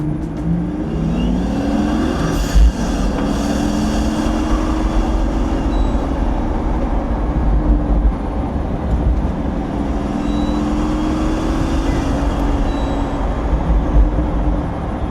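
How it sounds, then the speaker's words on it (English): Pagani Huayra turbocharged engine pulling hard while driving, a steady loud roar with rising and falling gear-change sweeps and turbo whooshes, no talking. "the sound of the vehicle and the way it performs, all the turbos coming in and out"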